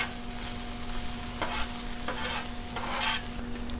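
Hash browns fry on a Blackstone flat-top griddle with a steady, even sizzle. A few brief scrapes of a tool against the metal surface cut through it, and a constant mechanical hum sits underneath.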